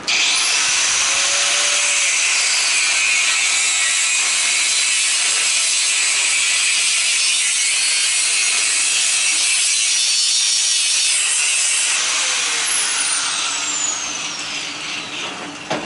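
A saw cuts through a brass frost-free water spigot clamped in a vise, a loud, continuous rasping grind that carries on for many seconds before tapering off.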